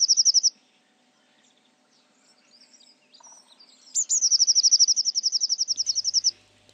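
Small birds chirp at a winter feeder: a short burst of rapid high notes, then a long even trill of quick repeated chirps, close and clear with no talk.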